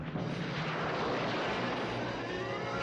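A propeller airplane roars steadily overhead in a dense broadband drone for a Superman radio show intro, loud and sustained with no voices over it.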